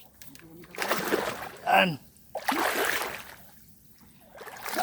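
Someone wades across a cold stream, water splashing and sloshing close by in short bursts, with people talking between and over the splashes.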